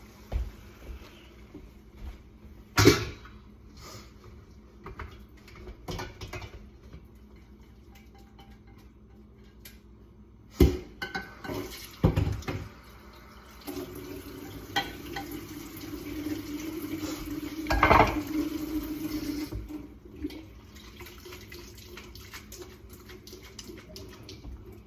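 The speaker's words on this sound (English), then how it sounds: "I'm going to take it over to the sink and I'm going to drain it" Cooked spaghetti drained in a kitchen sink brings rushing, splashing water with clunks of the pot, a stretch of steady pouring in the middle and quieter handling around it.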